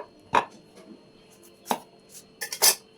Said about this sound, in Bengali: কুমড়োটা প্রথমে কেটে নিচ্ছি।